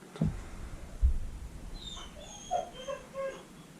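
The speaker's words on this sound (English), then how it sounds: "Sorry if you can hear my dogs" Pet dogs shut outside whimper and cry at a door, a few soft thumps followed by thin, high whines and yelps, fairly faint and intermittent with no talking.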